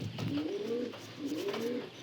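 An adult male pigeon of a black-and-white-patterned breed cooing close by, two low rolling coos in steady rhythm.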